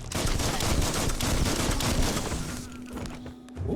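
Dense, continuous gunfire from Biomutant, rapid shots packed together for about three seconds before tapering off, loud and close with no talk over it.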